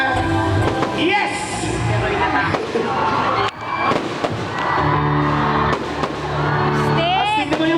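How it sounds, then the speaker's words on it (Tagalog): Fireworks bursting at a night show, a steady barrage of loud pops and crackles with whistling streaks, layered over a cheering crowd and nearby voices. "Tingnan mo yung fireworks."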